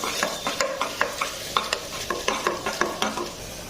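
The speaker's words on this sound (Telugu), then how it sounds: "ఆనియన్ బాగా ఫ్రై అయింది, ఆయిల్ పైకి వస్తుంది." Onions frying in oil in a pan, stirred with a steady rhythm of scraping strokes about every quarter second over a continuous sizzle, close and clear with no voices.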